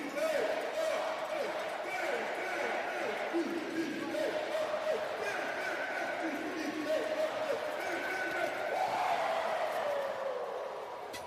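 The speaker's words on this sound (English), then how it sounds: "listen to the crowd again one more time that we won the Cup champ" A hockey arena crowd roars after an AHL Calder Cup Finals championship win by the Hershey Bears over the Coachella Valley Firebirds, a steady distant din under continuous commentary.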